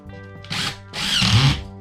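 A power drill fitted with a collared screw bit drives a screw into drywall in two loud whirring bursts, a short one and then a longer, rising run that slows as the screw seats.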